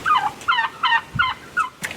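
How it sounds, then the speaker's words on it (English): Wild turkey toms gobble in an open field during spring turkey season, a series of loud, close, warbling gobbles in quick succession with short gaps between them. "Sorry, I'm being distracted by all these toms running around in the field"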